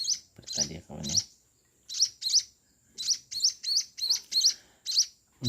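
Week-old Eurasian tree sparrow chicks being hand-fed, giving a rapid series of shrill, close chirps in quick bursts, with a brief low murmur at the start.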